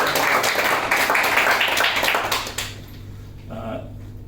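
Audience applause rings out at a film awards ceremony, dense clapping for about two and a half seconds that then fades to a quieter room with a brief murmur.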